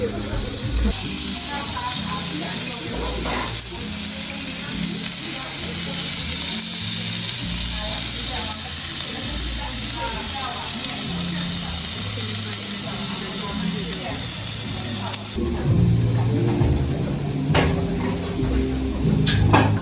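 Meat sizzling on a barbecue grill over a strong fire outdoors in winter in Poland, a steady hiss and crackle running throughout with voices talking over it.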